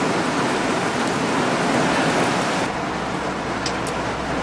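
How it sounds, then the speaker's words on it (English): Steady heavy rain hisses over an outdoor concert stage setup, a dense continuous wash of noise that dips slightly partway through, with no voices. "It's raining. It's official."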